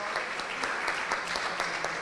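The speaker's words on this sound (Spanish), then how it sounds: "el fuerte aplauso de toda la audiencia" Steady, dense applause from the audience at a book presentation, continuous clapping filling the whole moment at an even level.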